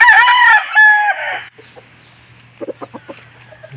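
A black gamecock rooster gives one loud, close crow lasting over a second, followed by a faint low hum and a short run of soft clucks.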